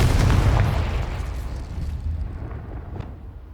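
Confringo fire spell explosion in the Hogwarts Legacy video game: a loud booming blast at the start that rumbles and fades over a few seconds, with a smaller crackling burst near the end, no talking.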